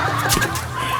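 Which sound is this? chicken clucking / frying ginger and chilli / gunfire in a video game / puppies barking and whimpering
chicken clucking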